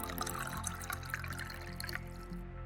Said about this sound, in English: I opened a can of beer and poured my wife a glass of a favorite Nasik Red.